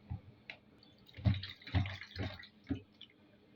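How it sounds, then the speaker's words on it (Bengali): Dried chapa fish being rinsed by hand in water, with irregular splashes and drips rising and falling close by, no talking. "চাপাগুলোকে ভালোভাবে ধুয়ে নিলাম"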